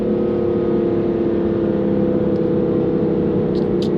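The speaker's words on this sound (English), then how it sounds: "Just listen to that thing. That is such a great engine." A 2015 BMW M3 engine pulls hard under acceleration while holding a gear, a loud, steady mechanical drone that stays up close and continuous throughout, with no voices over it.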